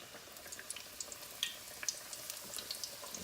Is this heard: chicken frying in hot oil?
yes